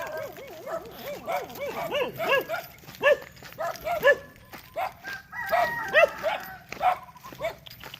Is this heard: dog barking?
yes